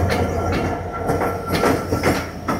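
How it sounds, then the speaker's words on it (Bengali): The Rajshahi passenger train passing close by, loud and continuous, with rhythmic wheel clatter over rail joints and a rushing rumble, no voices heard. "এটা রাজশাহী ট্রেন।"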